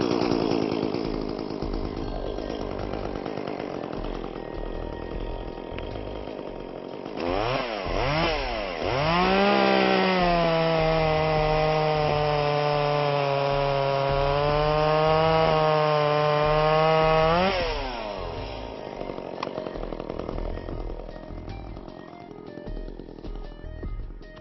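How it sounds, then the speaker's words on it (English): An Echo gas chainsaw idles, then revs hard to a loud, sustained high whine as it cuts through a log for several seconds, before dropping back to a rattling idle. "Now let's start our chainsaw."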